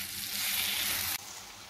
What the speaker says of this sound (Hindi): और इसे मिक्स कर देंगे।